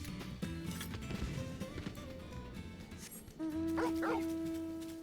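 A dog in the Final Fantasy 16 video game barks and yips a few times amid game clatter and impacts, followed by a sustained tonal sound near the end.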